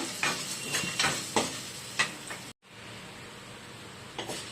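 Red chillies, tamarind, chana dal and urad dal sautéing in a pan for onion chutney, a steady soft sizzle with scraping stir strokes, a brief pause, then faint frying again.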